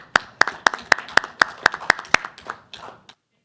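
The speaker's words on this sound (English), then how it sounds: "Let's give a round of applause for National School Counselors Week." Sparse clapping at a school board meeting for National School Counselors Week, about a dozen distinct, evenly spaced claps from a few hands, fading out after three seconds.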